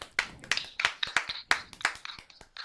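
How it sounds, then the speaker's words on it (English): A few people clapping in a morning radio show studio, sharp individual claps in an uneven burst close to the mic, with no talk over them. "Let's clap."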